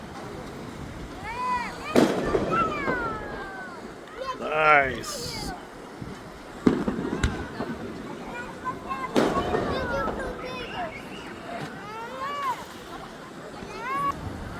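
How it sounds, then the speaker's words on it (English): Backyard firecrackers and Fourth of July fireworks near Hollywood Beach, Florida, popping in several sharp bursts with whistling, crackling streaks between them, while people talk and chatter throughout. "we got firecrackers in the backyard"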